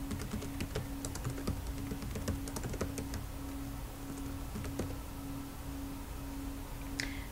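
Steady keystrokes on a computer keyboard, close and fairly quiet, with irregular taps running continuously throughout and a brief pause near the end.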